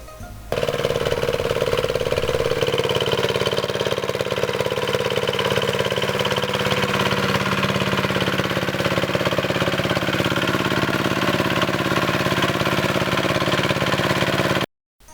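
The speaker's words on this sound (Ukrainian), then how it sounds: "до вашої уваги модернізований мотоблок Заря з двигуном повітряного охолодження" A modernised Zarya walk-behind tractor with an air-cooled engine runs continuously at a steady idle, loud and close with a buzzing drone and no talk over it.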